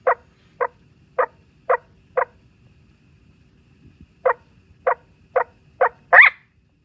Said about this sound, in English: Have you ever seen a barking frog?